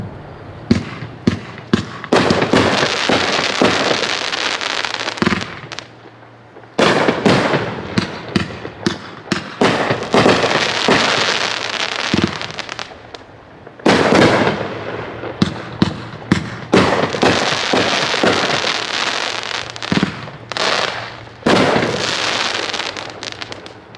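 Spider Nebula 21-shot 500 gram firework cake firing a loud, rapid sequence of booming shots and crackling bursts in repeated volleys, with brief pauses between barrages.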